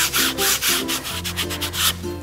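Baren rubbed across a woodblock print to pull a plate mark around the corners, a steady rhythmic scrubbing that swells and fades in repeated strokes, close and fairly loud with no talking.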